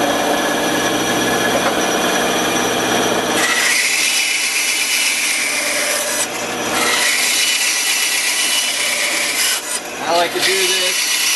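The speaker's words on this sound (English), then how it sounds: "And I'll just go ahead and grind the rest of that off." A power grinder works steadily on a handle blank, taking off excess material after shaping a radius. The sound is a loud, continuous abrasive whine that stays close and unbroken, with brief dips where the tool shifts against the workpiece.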